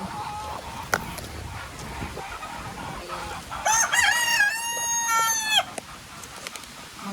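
A pet rooster crows loudly in one long, rising-and-falling call amid faint outdoor background noise, with a couple of sharp knocks nearby.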